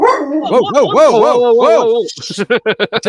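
A person imitates a big dog barking, with a string of rising and falling woofing howls followed by quick, sharp yips, loud and close up.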